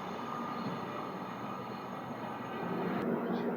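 Padmavati Express, the Tirupati–Secunderabad superfast train, rumbling steadily with a broad, continuous rail roar and a faint high whine, heard close and without voices.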